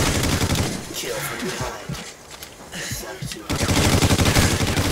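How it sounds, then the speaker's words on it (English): Gunfire in the video game Call of Duty: Ghosts, dense bursts of shots loud at the start and end with a quieter stretch in the middle, mixed with a player's voice talking over the action. "He shot me through the tree with a sniper rifle."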